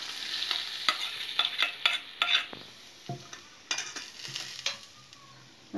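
Hot oil poured over mutton for Hyderabadi mutton haleem, then stirred in a pot: a burst of sizzling with repeated scraping stirs, close and fairly loud, with no talking.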